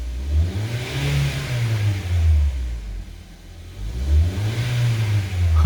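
A car at a repair garage, one that had suffered a fault for months, starts and is revved hard twice, its engine note climbing and falling in two strong, close swells with a brief dip between.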